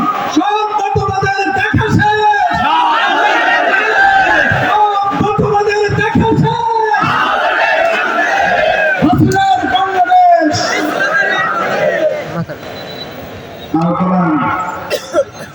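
A dense outdoor crowd at a Jamaat-e-Islami political rally chants slogans in loud rhythmic bursts of many voices, rising and falling across the whole stretch with occasional shouts.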